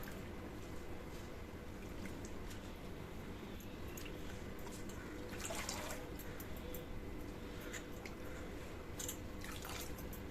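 Fenugreek leaves being washed by hand in water, with steady splashing and dripping close by and no talking.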